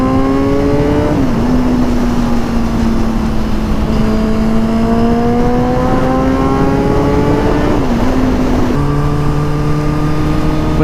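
A Suzuki GSX-R 1000 motorcycle engine pulls hard through the gears, each loud rising whine broken by quick shift drops as it climbs again, steady and close throughout.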